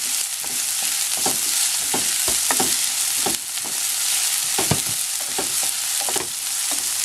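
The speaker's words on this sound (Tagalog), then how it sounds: "Okay, lutuin natin yung onion." Chopped onion sizzles steadily in a hot pan of oil for menudo-flavored croquettes, with a continuous loud frying hiss broken by repeated scraping stirs of a utensil, no talking.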